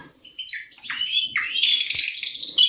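A nightingale sings a rapid, varied phrase of bright whistles and trills, close and clear against a quiet background.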